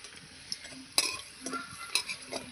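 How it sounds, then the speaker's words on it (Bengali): Bitter gourd fritters frying in oil give a soft, low sizzle, broken by a few sharp utensil scrapes and clinks against the pan, close but quiet. "লাল লাল করে উচ্ছের বড়াগুলো আমি ভেজে নিয়েছি"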